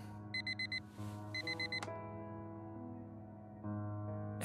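In the Fragments of Him video game, an alarm clock rings in two quick bursts of four electronic beeps over a steady ambient hum, followed by a click. The background tone shifts near the end.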